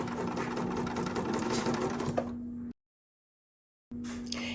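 A sewing machine runs steadily, stitching fabric along the edge of the presser foot while a quilted Dresden pillow is pieced; the close, loud whirring stops abruptly into silence for about a second, then starts again.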